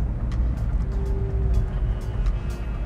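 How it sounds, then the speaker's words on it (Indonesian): A VinFast VF 5 electric car sitting stopped at a red light, a faint steady electric-motor whine held for a couple of seconds above a low cabin hum, with a few soft ticks and no talking. "Dan kalau kita diem, ada gitu sih suara. Zing. Suara-suara dari motor elektrik tuh"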